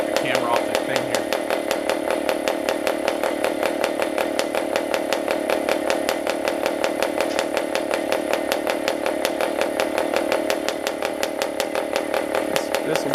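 A PAW 40 model diesel engine, run on fuel with 30% oil, screams steadily at about 9,000 RPM, a loud, continuous buzzing whine held close for the whole stretch with no pauses.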